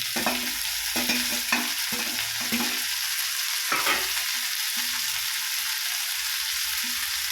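Chopped tomatoes stir-fried in a hot pan give off a steady close sizzle, with a utensil scraping and stirring in repeated strokes over the frying.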